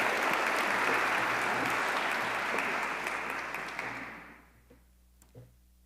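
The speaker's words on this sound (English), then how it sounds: "So let us give her a round of applause" A hall audience at a Women's Guild event applauds for a speaker who will introduce Father Greg Boyle. The dense, steady clapping holds for about four seconds, then thins out and fades to a few scattered claps.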